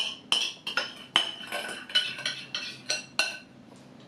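Frozen forest berries tumble into a buttered baking pan, making a series of about ten sharp clinks and taps against the metal in an uneven rhythm, close and clear.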